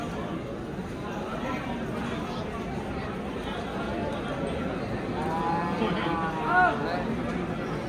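A buffalo lows once, fairly close, at the Rampura livestock market, over steady crowd chatter and people talking throughout.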